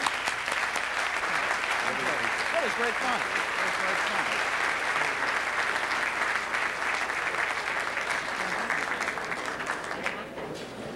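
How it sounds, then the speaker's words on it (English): Audience applause fills a panel event on government gridlock, dense and steady from start to finish before thinning slightly at the end, with a brief spoken remark over it. "all of us, by our applause, have indicated that kind of an agreement"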